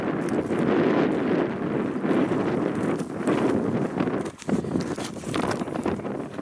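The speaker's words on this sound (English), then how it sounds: "I can find a place out of the wind for my camera." Strong wind buffeting the microphone on an open limestone shoreline at Rockport near Alpena, a loud continuous roar with gusty swells and no speech.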